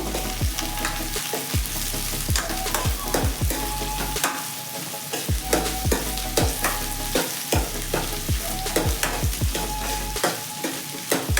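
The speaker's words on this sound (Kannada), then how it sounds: "ಹಸಿ ವಾಸನೆ ಹೋಗೋ ತನಕ ಫ್ರೈ ಮಾಡ್ಕೋಬೇಕು" Chopped ridge gourd, about a quarter kilo, frying in a pan: a continuous loud sizzle with repeated scraping stirs of a spatula at a steady rhythm, no voices.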